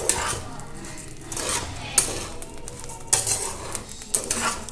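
A spoon scrapes and stirs homemade cerelac ingredients frying in a metal pan, with a steady gritty rasp, soft sizzling and several sharp clinks against the pan, close up and without speech.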